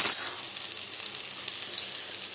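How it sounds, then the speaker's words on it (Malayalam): Onions and tomatoes sautéing in a pan, a steady soft sizzle and hiss with faint stirring scrapes, close by and without any talk. "നല്ലപോലെ വഴറ്റി വന്നതിന് ശേഷം കുറച്ച് തക്കാളി ഇടുക."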